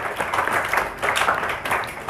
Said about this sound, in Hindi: उसके लिए एक बार फिर तालियां बजाओ